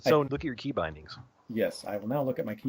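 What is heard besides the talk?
No distinct noise like a dog, phone or traffic.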